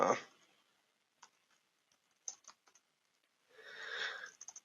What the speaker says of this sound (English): I'm typing badly.